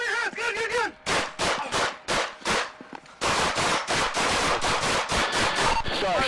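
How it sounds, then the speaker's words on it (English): Police firing a rapid volley of gunshots during a shooting, a loud burst of many sharp cracks in quick succession, pausing briefly before an even denser barrage of shots. "Shots fired, shots fired."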